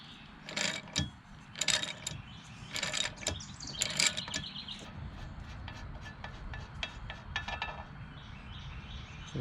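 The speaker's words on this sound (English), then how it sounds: "I'm going to loosen the nut." A wrench loosening the 1 1/16 inch prop nut on a Mercury 150hp FourStroke outboard, heard as a series of close metallic ratcheting bursts in quick clusters, then quieter clicks and clanks, with no talk.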